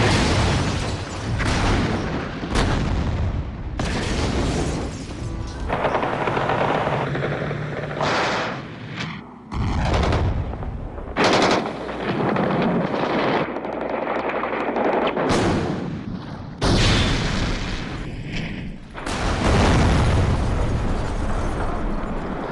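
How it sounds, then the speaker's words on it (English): Troops shelling the White House building in Moscow, with loud repeated booms and blasts alongside rattling machine-gun and rifle fire and the thud of a helicopter, dense and continuous throughout. "he ordered troops to storm the White House, shelling the very building he had defended 2 years earlier"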